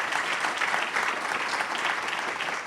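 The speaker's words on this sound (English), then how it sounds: "So first of all, I'd like to give our panelists a round of applause." Audience applause for panelists at a business and industry teacher-internship panel session, steady dense clapping from a room of people, moderately loud and continuous throughout without any talk.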